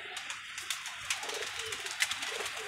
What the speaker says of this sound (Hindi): और एक ही कबूतर आया दोस्तों